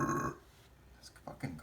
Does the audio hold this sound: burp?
yes